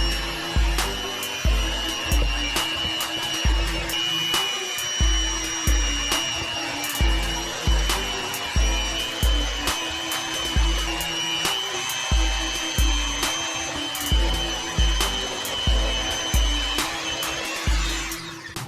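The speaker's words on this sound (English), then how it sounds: "Now I'm going to slowly add in the first 3 of the 6 eggs total while the mixer's running." An electric stand mixer runs steadily while eggs are added to buttery pound cake batter, a loud close motor whine with a regular rhythmic thump as the beater turns, no talk.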